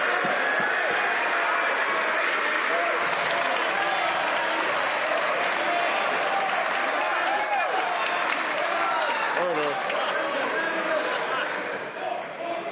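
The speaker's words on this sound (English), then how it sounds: "I'll ask members to hold off their applause until he does so." Members of the House of Commons in a parliamentary sitting applaud loudly, a dense, sustained round of clapping that fills the chamber and fades slightly at the end.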